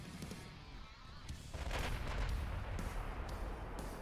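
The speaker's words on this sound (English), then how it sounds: "Torpedo detonation." A heavy, low boom and rumbling blast from a torpedo detonation in the naval game Ultimate Admiral Dreadnoughts, rising sharply halfway through and sustaining a dense roar with faint crackles.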